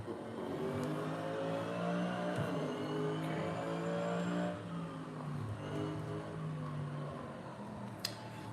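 A GT3 race car in the Assetto Corsa racing game during a practice session, its engine a steady, loud, buzzing drone with pitch rising and falling through gear changes, running continuously with no talk.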